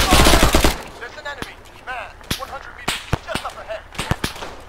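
Gunfire in a multiplayer war video game, with sharp close shots cracking in rapid uneven bursts and some ricochet-like whines, heard after a loud opening blast and with no voices in between.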